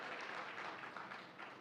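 Audience applause from a crowd at a Tamil motivational speech, a brief dense wash of clapping at moderate volume.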